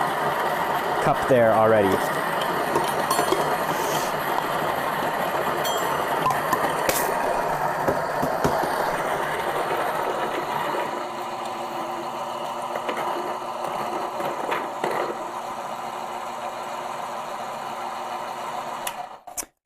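A coffee grinder grinding beans for espresso in a home latte setup, a steady whirring hum running for several seconds before cutting out, with a person speaking briefly over it.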